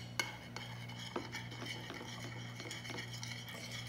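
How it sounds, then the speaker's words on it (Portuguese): Slime mixed with shaving foam is stirred in a container, making soft squishing sounds broken by sharp clicks and taps at an irregular pace. "Agora eu vou mexer."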